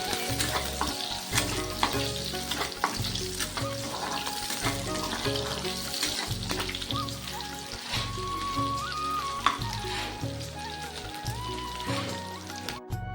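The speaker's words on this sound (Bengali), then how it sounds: "তার জন্য পেঁয়াজটা ভেজে নিচ্ছি" A small batch of onions fries in a pan, giving a steady, close sizzle with occasional stirring scrapes. A repeating tonal pattern plays quietly underneath the whole time.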